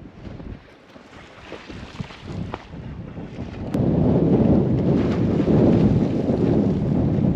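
Wind buffets the microphone in a rough, roaring rush that grows suddenly louder halfway through, with water and boat noise underneath.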